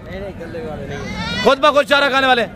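Goats bleating at a goat market in Dera Ghazi Khan, several wavering harmonic cries up close during the second half, with someone speaking over and between them amid market bustle.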